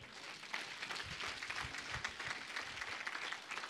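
Church congregation applauding during a Sunday service, steady sustained clapping from a crowd at a moderate distance, fairly faint, with some voices mixed in.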